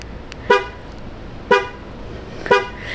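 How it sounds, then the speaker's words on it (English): A parked car's horn, set off from a remote key button, gives three short, evenly spaced beeps about a second apart, each one clear and distinct over a quiet background. "American cars have this feature where you can press a button and it can beep so you know where the car is"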